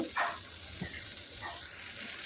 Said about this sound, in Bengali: ভালোভাবে কষিয়ে নিব।